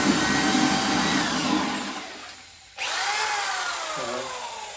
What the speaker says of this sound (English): is a hammer drill, and it spins faster than a regular drill